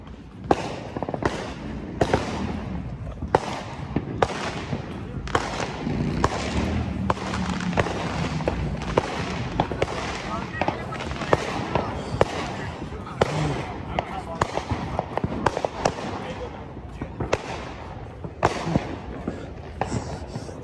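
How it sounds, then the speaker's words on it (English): A July 4th fireworks show at an Ohio park pops with rapid, loud, overlapping bangs and crackling bursts that go on for about twenty seconds, with voices faintly underneath. "That was the best fireworks awesome."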